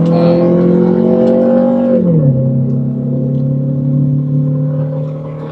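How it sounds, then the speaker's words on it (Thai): A modified Honda Civic coupe with a B20B engine drones loudly from inside the car, holding a steady engine note that drops in pitch around two seconds in as it shifts, then continues accelerating before easing slightly. "เดี๋ยวไปลองอัตราเร่งกันหน่อยดีกว่าว่าประมาณไหน"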